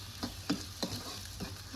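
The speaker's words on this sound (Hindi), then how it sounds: "इधर मैंने भाई सब्जी को तड़का लगा दिया है" Vegetable curry tadka sizzles in a pan, quiet and close, with a few soft stirring clicks at a steady pace and no talking.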